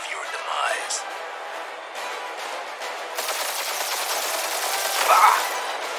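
Rapid gunfire during a Guardians of the Galaxy video game boss fight, dense crackling bursts that build toward the end, with game character voices talking over the shooting.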